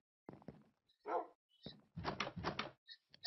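Barks from a dog in the video game Minecraft, a few short separate yelps and woofs in quick bursts over roughly three seconds, fairly close and clear with no talking.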